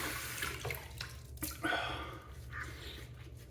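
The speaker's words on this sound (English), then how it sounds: "Let me rinse off real quick." Tap water runs steadily into a sink while a razor is rinsed during a wet shave, a close, continuous splashing wash with brief clinks and shifts in the flow.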